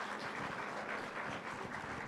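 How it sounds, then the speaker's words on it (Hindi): Quiet, sustained applause from an audience at a Lit Chowk interview event with actor Abhishek Banerjee, a soft continuous patter of many hands that stays level throughout. "एक बार जोरदार तालियां।"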